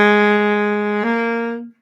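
Two sustained baritone saxophone notes drawn from a pentatonic scale: the first held about a second, then a step down to a lower note that fades out, played solo.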